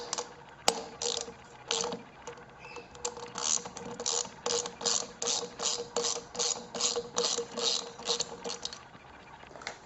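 Ratchet wrench removing the rear sprocket nuts on a 2009 Yamaha R1, a rapid series of close, rhythmic clicking bursts repeating steadily throughout.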